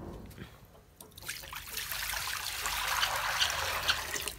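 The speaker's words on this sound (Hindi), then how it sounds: "ये सारा पानी अब इसमें डालना पड़ेगा मुझे।" Water is poured into a container for pigeons and other pets, a steady splashing trickle that builds and grows louder over a few seconds with no talking.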